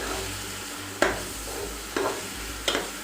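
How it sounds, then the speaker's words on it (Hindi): Garlic ginger paste hits golden onions frying in a pan, giving a steady loud sizzle with three distinct stirring scrapes spaced about a second apart; no voices. "अच्छा जी, प्याज हमारे गोल्डन हो गए हैं, तो इसके अंदर हम डालेंगे लहसुन अदरक का पेस्ट"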